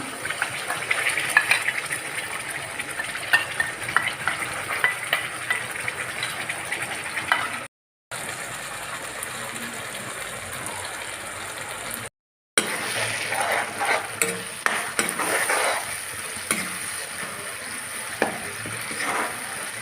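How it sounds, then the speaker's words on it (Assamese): A ground spice paste fries in hot oil, crackling and sizzling steadily and close up, with occasional stirring scrapes, no talking, and two brief silent gaps. "এতিয়া গোটেই মছলাখিনি তেলত দি দিছোঁ"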